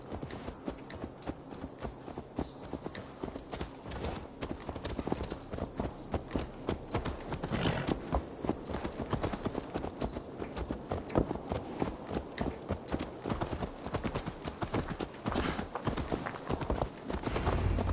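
Horse hooves clip-clop steadily and continuously in a PS4 video game, a dense, moderately loud run of hoofbeats filling the whole stretch with no voice over it.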